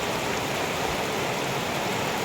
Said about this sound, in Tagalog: Lakas ho kasi ng ulan, napakalamig.